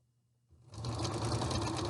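A sewing machine stitches a 1/4 inch hem while sewing the sleeve of a fabric isolation gown, starting after a brief near-silent pause and then running in a steady, close, continuous whir of rapid needle strokes.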